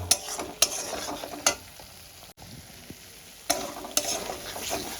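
A spice paste sautés in oil for a katla fish head and cabbage dish: a continuous close sizzle broken by several sharp spatula scrapes and knocks at irregular intervals, with no talking.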